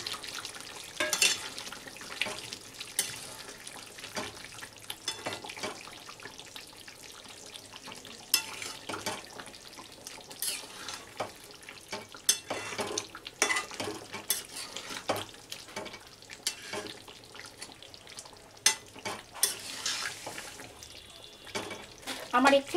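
Potatoes added to a frying chicken dish and stirred, a crackling sizzle broken by irregular scrapes and clanks of a utensil against the pot, with someone speaking now and then.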